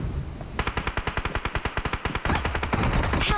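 Automatic gunfire in the mobile game BGMI: a fast, loud burst of about twenty evenly spaced shots, then a denser, noisier spell of continued fire and clatter.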